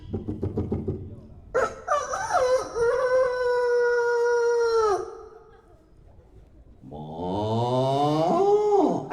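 A person's voice imitates a rooster crowing, drawn-out calls repeated with rising and falling pitch, loud and close.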